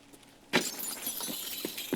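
Glass shatters in the video game Escape from Tarkov, one sudden sharp crash followed by a sustained scatter of tinkling shards, with a couple of softer clinks near the end.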